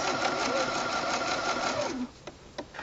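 Sewing machine stitching a small keychain diaper, a rapid steady mechanical whir close by for about two seconds, then stopping into quiet with a couple of soft clicks.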